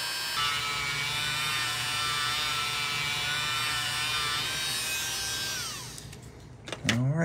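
An electric buffing tool whines steadily against a metal part from a Gilbert HO ALCO DL600 model locomotive, a high, even drone that winds down near the end, followed by a couple of brief clicks.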